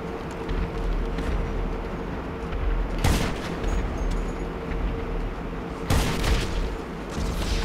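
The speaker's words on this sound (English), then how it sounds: "shooting his whole arsenal" Gunfire in GTA Online: a steady mid-level din of shooting throughout, with two louder bursts of shots standing out near the middle and toward the end, no talking.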